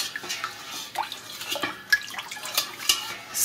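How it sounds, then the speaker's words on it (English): A spoon stirs cola essence into a syrup, with light liquid swishing, soft drips and small clinks against the container, close and fairly quiet. "We're gonna give that a nice stir."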